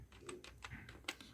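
Quick, faint clicks of fingers typing a name on a computer keyboard, about eight or nine separate keystrokes in a rapid, slightly uneven rhythm with no talking.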